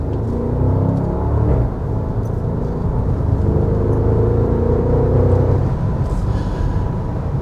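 A 2026 Porsche Cayenne Turbo E-Hybrid SUV accelerates hard on the road, its engine a heavy, continuous low rumble with rising tones, heard steadily from inside the cabin with no voices.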